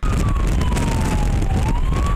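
A police-style siren on a vehicle driven by a police impersonator wails loudly and close by, its pitch sliding down and then rising again, over heavy road and engine rumble.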